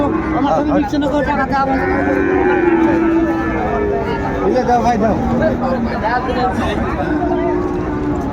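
Sahiwal cattle moo repeatedly in long, drawn-out calls, close by, over a steady babble of people talking in a busy outdoor cattle market in Dinajpur.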